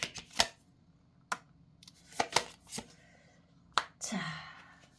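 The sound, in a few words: tarot cards being handled and spread out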